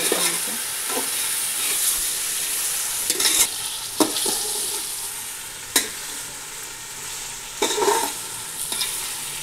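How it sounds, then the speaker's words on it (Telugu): Chicken and onions for dum biryani are stirred in a pot over steady sizzling, with a spoon scraping and knocking against the metal in irregular bursts, close and clear with no voices. "ఎర్రగడ్డలు మళ్ళీ చికెన్ అంతా కలుపుకోవాలి."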